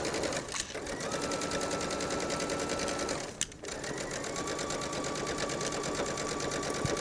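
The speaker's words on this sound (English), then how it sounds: "And you're going to stitch all the way down." A sewing machine stitches steadily down the facing of a jacket, a fast continuous mechanical whir broken by one brief pause midway, with no talking.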